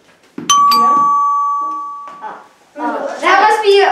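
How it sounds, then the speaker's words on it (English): A single bright electronic doorbell chime sounds, ringing and fading over about two seconds, followed by people talking nearby. "That must be my doorbell."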